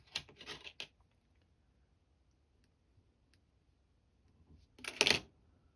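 Scissors snip orange marabou feather for a fly-tying tail, a quick cluster of soft close cuts, then quiet, then another short crisp burst of snipping; no talk.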